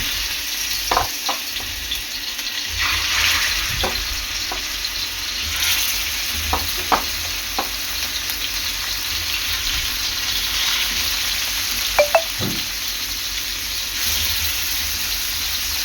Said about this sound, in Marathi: आता मी यामध्ये मच्छी फ्राय करून घेते